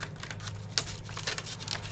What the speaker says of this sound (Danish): Så sætter vi noget tape rundt om.